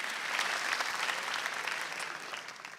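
A crowd at a stand-up comedy night applauding, a sustained, dense patter of clapping that holds steady and then gently tapers off.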